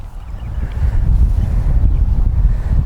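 Strong wind on a golf course roars across the microphone as a steady low rumble with gusty swells, loud and close for a few seconds without any talk.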